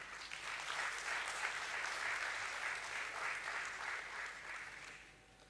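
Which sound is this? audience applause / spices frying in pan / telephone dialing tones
audience applause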